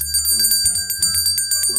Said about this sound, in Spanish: ¿por qué sigues tocando esa condenada campana?